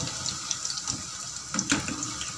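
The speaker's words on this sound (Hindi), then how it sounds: "अब हम इन्हें फ्राई कर लेते हैं मीडियम आंच पे।" Pakoras frying in oil in a kadai over medium heat give a steady, close sizzle flecked with small crackles and pops, with no voices.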